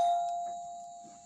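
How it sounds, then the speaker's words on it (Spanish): A home doorbell rings with one clear sustained chime that slowly fades, loud and close, with faint background noise and no speech. "Espérense, que están tocando el timbre."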